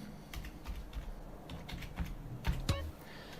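Quiet, rapid keystrokes on a computer keyboard while a GTA San Andreas cheat code is entered, irregular clicks building to a couple of firmer taps near the end, with no talking.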